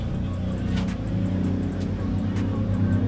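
A BRZ sports car passes nearby at a fuel stop, a loud engine rumble swelling and fading, with faint clicks and ticks over the top and no talking.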